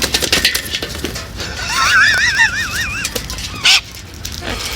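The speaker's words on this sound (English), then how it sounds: "Oh, I love it when the birds fall over." Birds honk and squawk in a wavering goose-like call that rises and falls for about a second, followed by a short sharp squawk, over rustling background noise.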